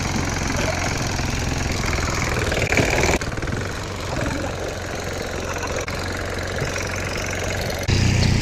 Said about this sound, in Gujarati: નાનું છે પણ નાનું બચ્ચું છે ટ્રેક્ટર.